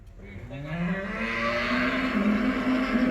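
A Holstein Friesian dairy cow at a farm near Bathinda, Punjab, lets out a single long, loud moo close by. It rises in pitch and holds steady to the end.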